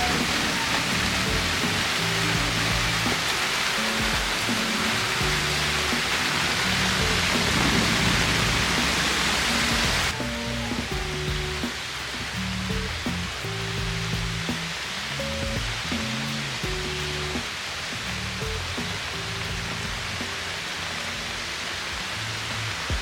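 Rain falls steadily on a gloomy day, a dense even hiss with a faint patter of drops that continues for the whole stretch with no voices.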